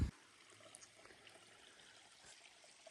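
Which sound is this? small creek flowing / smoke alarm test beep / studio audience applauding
small creek flowing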